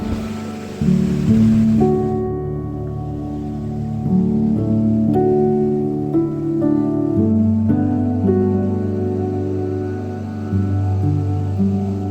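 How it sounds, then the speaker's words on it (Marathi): Sea waves washing and crashing at the Devbag confluence point where creek and sea meet, a loud, continuous surging roar over a low rumble, mixed with steady tonal hum, with no voices. "आता बघू शकता तुम्ही पाणी कसा दोन्ही साईडचा आपटता"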